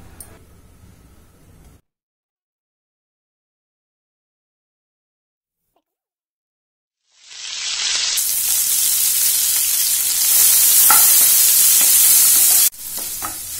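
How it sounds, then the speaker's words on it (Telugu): Mustard and cumin seeds spit and crackle as they hit hot oil in a pan. The loud, continuous sizzle starts after a few seconds of silence. "ఒక పాన్ లో 2 స్పూన్లు నూనె వేడి చేసుకుని ఆవాలు జీలకర్ర వేసి అవి చిట్లగానే"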